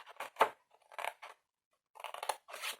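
Several short bursts of scissors snipping through folded paper for a small diagonal box, close by, separated by brief pauses.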